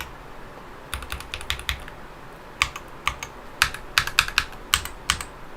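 Computer keyboard keys tapped in short uneven bursts, a few scattered presses then a quicker cluster of crisp clicks, close and clear against a quiet room.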